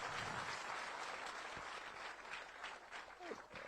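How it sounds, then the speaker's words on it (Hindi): A crowd claps continuously at a public government program in Narayanpur, the dense, even applause holding at a moderate level for several seconds with no gaps. "आप लोग तालियां बजाते रहिए भाई,"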